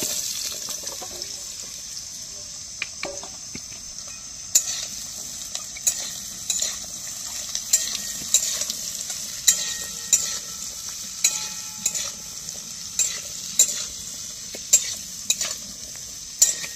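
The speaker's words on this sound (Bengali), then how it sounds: "এবার আমি কড়াইয়ে তেল দিয়ে আলুগুলো ভেজে নেব।" Steady oil sizzle of potatoes frying in a wok, with repeated scraping and stirring clicks, close and fairly loud, no voices.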